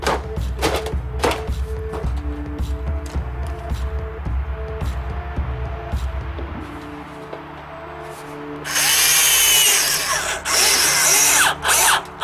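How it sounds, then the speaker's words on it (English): A power drill drives screws into a homemade wood heater stove rain cap, with repeated short bursts of whirring and grinding, followed by louder, sustained drilling near the end. "I want to add some screws to make sure that it stays"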